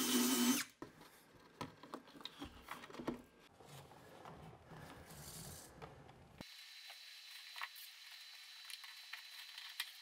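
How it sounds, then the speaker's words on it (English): A power drill bores out the corner of a floating bathroom vanity cabinet, bursts of whirring and ratcheting mechanical clicks, moderately near, followed by a quieter steady hum. "let's go ahead and drill out the corner of this cabinet"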